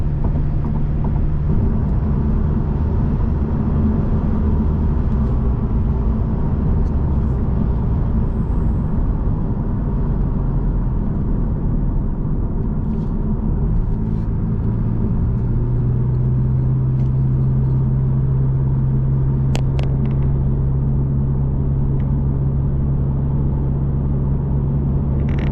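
A 1996 Toyota Crown with a 2.4L turbo diesel cruises at about 90 km/h on a single-lane backcountry road, a loud, steady low engine drone and road rumble heard from inside the car.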